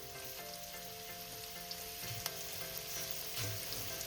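Chopped onion frying with potatoes in hot oil in a pan gives a steady, quiet sizzle, with occasional stirring clicks and pops.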